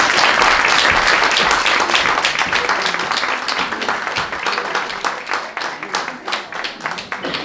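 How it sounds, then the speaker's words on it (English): An audience applauds after a talk on Mary Ann McCracken, with dense, lively clapping at first that thins into scattered, uneven claps as it dies down. "if you want to give another clap"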